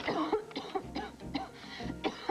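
A series of short, harsh coughs close by, coming in irregular bursts, several in a row.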